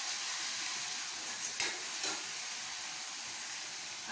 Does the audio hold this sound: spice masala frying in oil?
yes